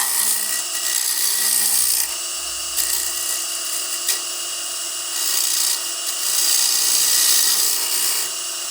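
A bowl gouge cuts a pine bowl spinning on a lathe, giving a bright, steady hissing whine that rises and eases in long passes as the tool rides the wood.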